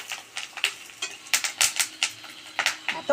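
Ridge gourd frying with spices and fish roe in a pan, heard as rapid clattering stirring strokes and scraping against metal in irregular bursts, each sharp and close, over a quiet sizzling bed.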